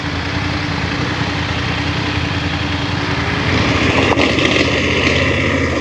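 A motorcycle engine runs continuously up close, with a steady throbbing rumble and a brief rattle near the end.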